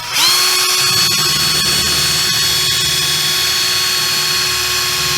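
A power drill bores a hole through VW T1 Deluxe trim, giving a loud, close, continuous high whine that holds steady for about five seconds with no talking.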